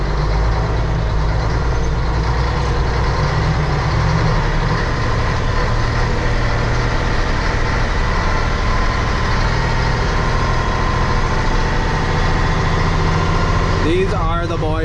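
A new utility line crew truck idles outdoors, its engine a loud, steady low rumble that runs unbroken throughout with no rise or fall.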